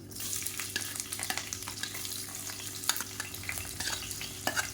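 Sliced large onions and whole green chilies sizzle in hot oil in a pan for chicken pepper varuval. A steady, soft frying hiss runs under faint scrapes of stirring, with no talk.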